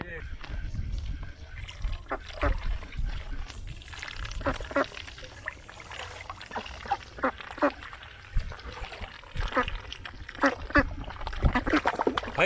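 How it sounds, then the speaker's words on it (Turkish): Saltwater-feeding ducks quacking in repeated short bursts close by, mixed with splashing and other animal calls, with a person talking over them. "Muhtemelen hiçbirinizin görmediği tuzlu suda beslenen ördekler."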